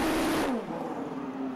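A Champ Car race engine at Long Beach revs high and drops as the car struggles to get into gear, a brief whining burst falling to a steady lower drone, heard at moderate distance.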